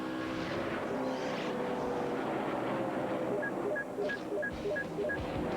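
NASCAR stock cars racing at speed during the 2002 NAPA Auto Parts 500 in Southern California, a loud continuous engine roar with shifting pitch as the throttle lifts and reapplies through a corner.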